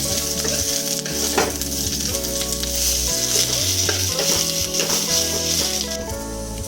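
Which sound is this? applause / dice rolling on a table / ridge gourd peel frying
ridge gourd peel frying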